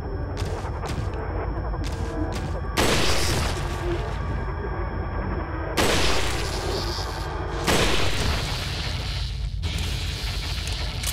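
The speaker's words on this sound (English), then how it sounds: "Let's just line up my sniper rifle" Sniper rifle shots in Resident Evil 4, three loud booming reports spaced a few seconds apart, each with a broad blast and short decay over a steady background of game ambience and lighter clicks.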